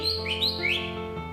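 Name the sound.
green leafbird (cucak hijau) chirping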